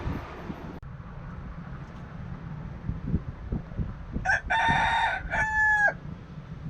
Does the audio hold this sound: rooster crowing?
yes